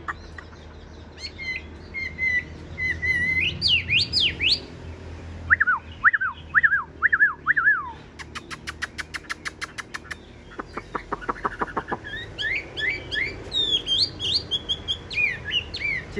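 A tame pet songbird with yellow legs and a yellow beak sings loudly and close by, pouring out varied whistled phrases, rapid trills and repeated chirps in bursts that continue steadily without any talking.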